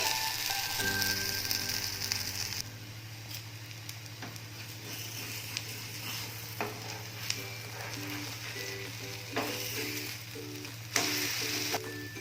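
Coconut tikki (nadia bara) frying in a small amount of oil in a pan, a steady close sizzle running the whole time with faint scrapes and taps of a utensil, no talking.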